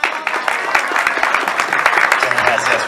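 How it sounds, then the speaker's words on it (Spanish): Wedding guests applaud together in a steady, dense wash of clapping that runs unbroken from start to finish, close and loud, with a few voices mixed faintly underneath. "Fuerte los aplausos, por favor."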